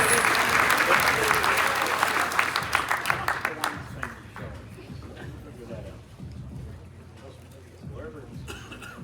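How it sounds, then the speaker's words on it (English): An audience at a high school football awards ceremony applauds its award finalists with a loud, full round of clapping that tapers off into chatter and shuffling, with a voice speaking over it. "How about one more round of applause for all of our award finalists?"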